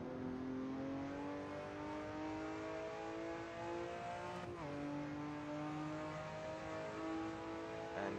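A Ruf RT12R sports car accelerates hard around the Mugello circuit, its engine note climbing steadily, dropping sharply at a quick gear change midway, then rising again. The engine is loud and continuous, with no one talking.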